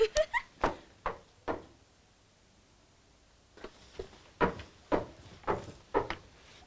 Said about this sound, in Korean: 누군가 찾아와 문을 두드렸고